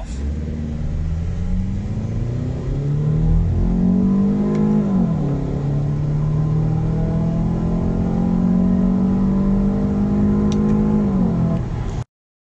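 A 2012-2017 Toyota Camry 2.5 with an aftermarket intake accelerates hard in sport mode, its engine droning and rising in pitch through a gear change before climbing again, steady and close for about twelve seconds.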